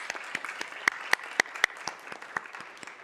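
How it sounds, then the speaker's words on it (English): Applause in a city council chamber, scattered sharp individual claps from a small group at an uneven rhythm, fairly distinct and close. "Let's give them a round of applause."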